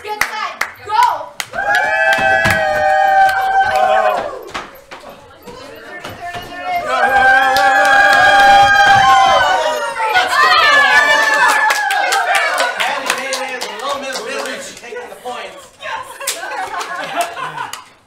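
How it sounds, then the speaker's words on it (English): Game show crowd at a live-streamed race cheers and claps, lively clapping mixed with chatter, laughter and excited shouting, with a host's voice and pitched vocal cries rising and falling over the noise throughout. "Everyone cheer for them."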